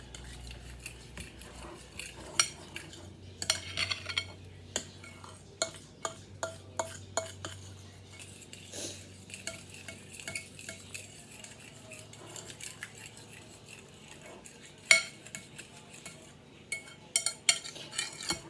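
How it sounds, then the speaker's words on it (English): An egg gets stirred into a low-carb bread batter in a bowl, with quiet scraping and irregular clinks of a utensil against the dish, punctuated by a few sharper taps, all fairly soft and close. "You put 1 egg. One egg. You mix that up."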